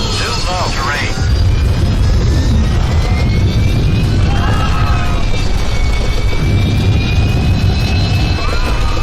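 A World War II flight video game plays a steady, loud aircraft engine drone that continues throughout, while brief voices cut in over it.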